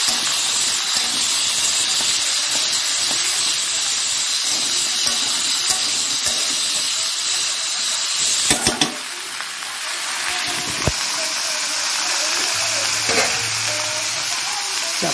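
Tomato sizzles in a frying pan of cauliflower and potato curry, a loud continuous hiss with brief stirring clatters partway through.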